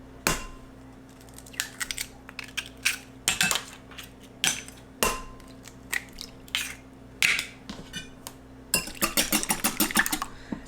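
Eggs cracked against a bowl and beaten for rice pudding, heard as a string of sharp clinks and taps in irregular bursts, closer and busier toward the end, with no talking.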